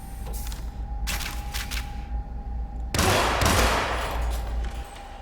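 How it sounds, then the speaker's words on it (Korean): Bursts of rapid gunfire crackle in two short volleys in the video game Hitman (2016), Hokkaido episode, then a longer, louder barrage erupts over a steady electronic hum, game-like and close. "총소리 안들리려나 모르겠네"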